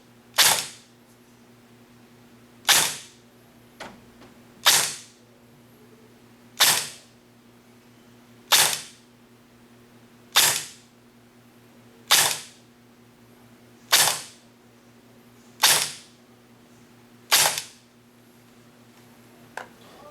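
Airsoft AEG shots fired one at a time through a chronograph, about ten sharp snapping cracks spaced roughly two seconds apart over a steady low electrical hum, with no talking.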